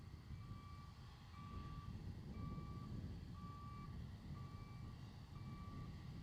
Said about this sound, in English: They get truck deliveries, they get deliveries all day and all night.